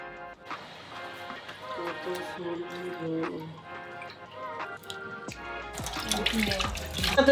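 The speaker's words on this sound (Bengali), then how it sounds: "এটা এখন ধুয়ে নি ভালো করে কারণ অনেকদিন পর্যন্ত পরে আছে রান্না বান্না করা হয় না এগুলোতে" Cooking utensils are rinsed under a running tap, with water splashing and clinking metal throughout and a louder gush near the end, while a person talks.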